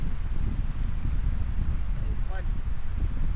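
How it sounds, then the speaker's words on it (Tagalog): Strong wind at Patricia Lake in Jasper National Park buffets the microphone in a constant low roar, with a faint chirp-like tone briefly cutting through. "Lakas ng hangin."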